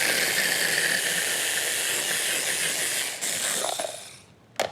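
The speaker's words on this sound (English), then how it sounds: "Let's pop the lid on, and we'll just give that a bit of a blend until we get a nice paste." A kitchen blender whirs green olive flesh into a paste, a loud, steady, rushing roar that runs for about four seconds before winding down and cutting off with a clack.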